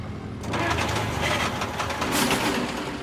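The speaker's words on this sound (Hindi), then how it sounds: "लगता है ट्रैक्टर का इंजन खराब हो गया है।" A broken-down tractor engine running roughly, giving a steady, dense mechanical clatter and rumble that continues without a break for about three seconds.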